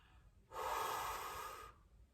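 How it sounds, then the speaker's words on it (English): A single close breath taken during a warm-up exercise, a soft airy exhale lasting a little over a second and fading out. "Easy, relaxed breathing."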